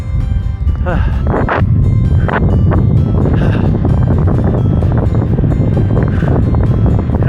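Strong, gusty wind on a mountain pass near 12,800 feet in the Collegiate Peaks roars and buffets the microphone continuously, a loud low rumble with occasional sharper gusts.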